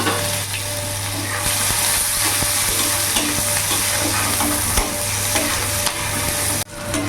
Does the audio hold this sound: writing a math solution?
no